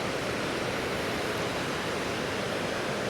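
Steady rushing roar of a waterfall on a river at Glen Etive, a dense unbroken wash of white water that stays loud and even throughout with no voices.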